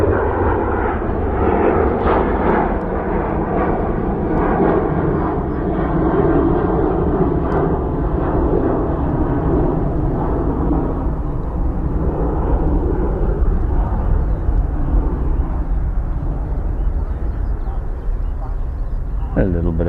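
A Ryanair airliner takes off at Manchester Airport, its engines a loud, sustained roar that holds steady throughout.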